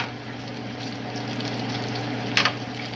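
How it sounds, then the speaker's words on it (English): Bacon sizzling steadily in a frying pan, a soft continuous crackle with a brief scrape near the end as the strips are turned over. "So I'm going to go ahead and turn over the bacon."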